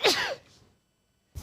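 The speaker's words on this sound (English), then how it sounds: "I'm gonna sneeze again." A single sharp human sneeze bursts out close and loud, trails off quickly into quiet, and is followed by a brief start of another sound at the end.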